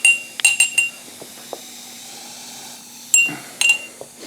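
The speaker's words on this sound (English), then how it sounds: "I have this little metal straw. I'm going to use to stir it up so we can get that tablet dissolved" A small metal straw clinks against the inside of a glass while stirring a dissolving Alka-Seltzer tablet in liquid, giving a few bright, close taps in short clusters separated by quieter fizzing pauses.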